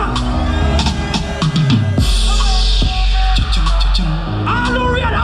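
Loud Afrobeat music from a DJ set aboard a Caribbean cruise ship party, with pounding bass, bright percussive hits and a crowd or hype voices shouting over the track.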